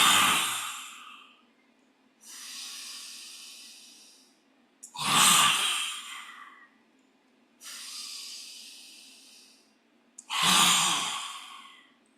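Forceful open-mouthed lion's breath exhalations during a chakra yoga session, five long breathy hisses in a steady rhythm with short quiet pauses between, close and clear with no talking.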